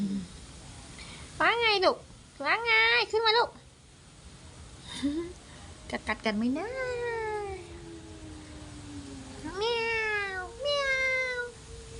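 A house cat meows repeatedly in a rising and falling series, several short cries in quick bursts followed by longer drawn-out meows, fairly close, with someone talking quietly in between.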